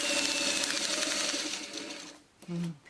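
A sewing machine runs steadily up close, stitching a long continuous whir that winds down and stops near the end, followed by a brief low sound.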